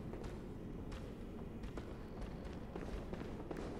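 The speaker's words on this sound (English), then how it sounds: "I can still hear footsteps." Heavy footsteps of a boss creature in the Bloodborne video game thud in a steady, running rhythm, close and loud over dense rumbling game ambience.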